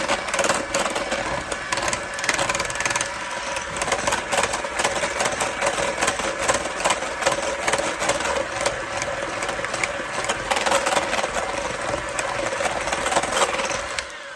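An electric mixer runs continuously, blending thick key lime frozen pie filling with a steady, buzzing motor whine and rattling texture, close and loud throughout.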